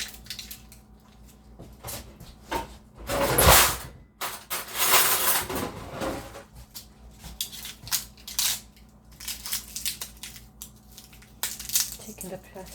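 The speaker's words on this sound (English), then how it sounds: "Taking the plastic off the garlic" Crinkling, crackling bursts of plastic wrap pulled off a head of garlic, loudest in two close rushes near the start, then lighter rustles and taps in a quiet kitchen.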